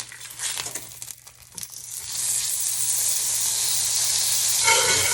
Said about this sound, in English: I'm gonna actually go in my skillet with a little bit more butter under each one.